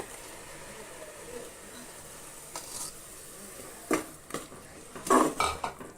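Ground tomato paste is stirred into onions in a pressure cooker pot, with a quiet background and a few sharp metal spoon scrapes and clanks that grow louder toward the end.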